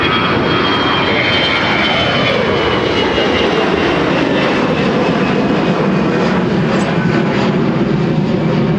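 A Delta airliner takes off from runway 30 left at MSP, its jet engines roaring loud and continuous throughout, a broad sustained rumble with a slowly shifting tone as the aircraft accelerates.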